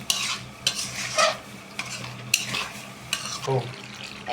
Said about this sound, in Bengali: এবারে একটু নেড়ে নিলাম।